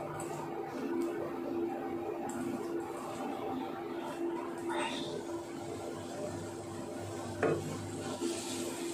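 Poi leaves cook in a pan with a soft, continuous sizzle and occasional stirring scrapes, fairly quiet and close, with a faint background hum and a couple of sharper utensil clicks.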